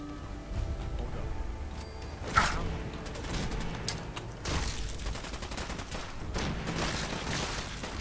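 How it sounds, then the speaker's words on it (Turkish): Machine gun fire in Fallout 4 rattles in rapid bursts with sharp shot transients and a few louder impacts, sustained through most of the stretch over game ambience. "Şimdi biraz makinalı tüfeğimizle takılalım ya."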